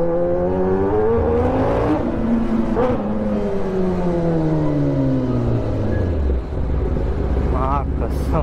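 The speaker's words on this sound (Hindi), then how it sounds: "ड्रीम लैम्बोर्गिनी, इसका एग्जॉस्ट देखो भाई। इधर पे साउंड सुनना गाइस" A Lamborghini's exhaust, loud and close, with a continuous engine drone whose pitch sweeps up and falls back across revs, sustained throughout with a brief dip near the end.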